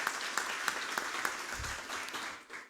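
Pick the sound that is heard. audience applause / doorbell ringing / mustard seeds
audience applause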